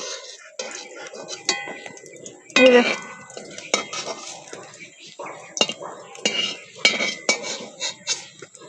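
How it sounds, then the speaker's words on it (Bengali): Fried eggplant pieces are lifted from a pan with a metal utensil, giving scattered clinks and scrapes of cookware against the pan, with occasional light sizzling and no talking. "বেগুন ভাজা হয়ে গেছে লাল লাল হয়ে গেছে এবার আমরা বেগুনগুলো তুলে নেব"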